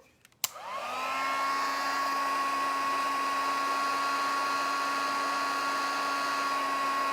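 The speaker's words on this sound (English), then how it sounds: "My heat tool again." A heat tool clicks on and ramps up into a steady, close, high-pitched whirring blast of hot air used to dry paint, holding constant with no talking.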